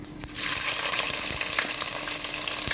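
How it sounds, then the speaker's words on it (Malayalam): Ginger sautés in hot oil for a Kerala-style lemon pickle, giving a loud, continuous crackling sizzle that flares up just after the start and keeps bubbling steadily nearby. "ഇനി ഓരോന്നായിട്ട് ഇട്ട് വഴറ്റാം അതായത് ആദ്യം ഇഞ്ചി ഇടാം"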